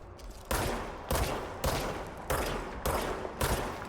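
Enemy gunfire in the video game Control comes as six evenly spaced loud blasts, each a harsh broadband crack with a decaying tail, repeating roughly every half second, close and prominent.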